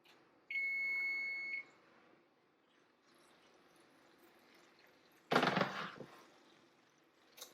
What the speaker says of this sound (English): the timer's going off